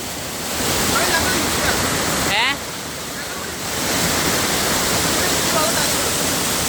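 Water rushing hard at the top of a waterfall in the Mangalam Dam forest, a loud, close, continuous roar that dips briefly midway, with a faint voice in the background.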